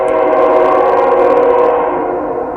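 A passing train sounds loud and near as a sustained droning, horn-like tone with steady harmonics. It holds for a couple of seconds and then begins to fade, with no talk.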